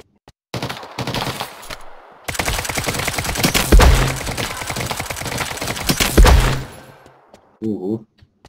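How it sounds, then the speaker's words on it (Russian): Dense automatic gunfire rattles in the video game Lost Light, long loud bursts of rapid shots with heavier booms mixed in, followed by a few scattered shots and a brief spoken comment. "Вот это там стрельба."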